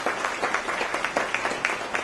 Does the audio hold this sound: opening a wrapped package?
no